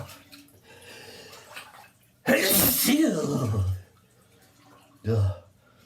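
A man sneezes loudly once in a bathtub, a sharp close burst followed by a trailing breath, then a shorter second sneeze or snort, with quiet murmuring in between.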